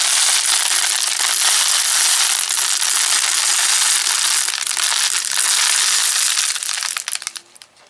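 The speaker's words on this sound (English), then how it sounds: "the birdseed's going to start to spill out of the holes" Birdseed spills and rattles out of holes in a plastic water bottle in a continuous dense patter of tiny grains, loud and close, tapering into scattered last drops.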